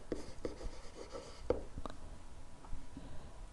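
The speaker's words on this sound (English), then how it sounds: "finally, I can write the rest of my word" Marker or chalk strokes on a classroom board while a geometry proof is written out, a series of short faint scratches and taps in an irregular rhythm.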